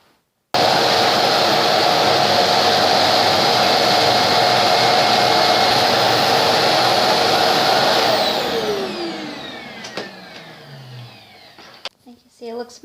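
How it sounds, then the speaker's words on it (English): A vacuum cleaner sucks up food crumbs in a ferret cage, a loud, steady whine that starts abruptly, runs several seconds, then winds down in a falling pitch, followed by faint clicks and knocks. "the first thing I'm going to do is vacuum all the crumbs"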